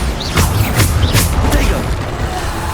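A Bombarda blasting spell goes off in Hogwarts Legacy, a loud booming explosion with rushing, crackling debris filling the whole moment.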